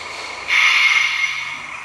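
A locomotive runs in a train simulator game on the Kampala Road route, rising after half a second into a steady, fairly loud mechanical hiss and hum that holds for the rest of the clip with no talk.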